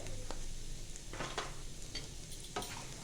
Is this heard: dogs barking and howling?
no